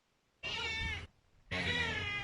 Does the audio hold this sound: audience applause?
no